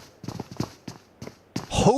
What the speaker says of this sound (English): Straight hoofing it. A glorious gallop.